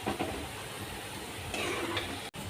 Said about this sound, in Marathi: इथे मी मका पोहा तळून घेत आहे